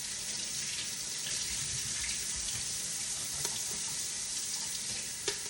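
Canned beans being rinsed and drained by hand under a running kitchen tap, a steady broadband water rush with small splashes and a couple of sharper clinks near the end, no voices.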